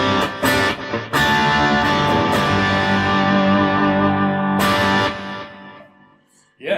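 A loud, distorted electric guitar rings out with sustained, droning feedback tones, a few sharp attacks at the start before it slowly fades away.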